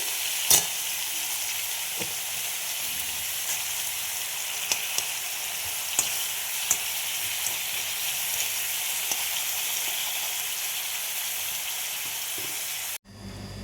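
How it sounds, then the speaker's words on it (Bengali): Chicken frying in a mix of ghee and oil gives a loud, steady, close sizzle with a few sharp clicks and pops, ending abruptly. "এই মাংসগুলো ঘি দিয়েই ভাজবো তেল রয়েছে তেল আর ঘি মিক্স করে"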